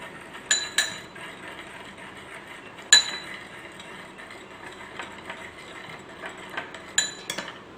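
A spoon mixes a multani mitti and aloe vera face pack in a bowl, making faint scraping with a few light clinks against the bowl. Nobody talks.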